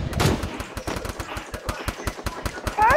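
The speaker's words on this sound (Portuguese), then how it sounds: "Aí, ó, o cara atirando nas costas." Gunfire in a shooter video game: a rapid, steady automatic burst of evenly spaced shots, loud and close, running the whole stretch with a brief heavier blast at the start.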